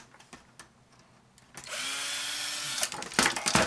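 Power drill backing screws out of a scrapped laminator: scattered clicks and handling knocks, then a sustained whirring drill run with a rising pitch, followed by rattling bursts and clatter.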